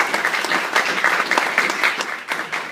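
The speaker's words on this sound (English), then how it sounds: "she deserves the real round of applause" Audience applause fills a political event hall, steady dense clapping from many hands throughout, fairly close and loud, with no voices over it.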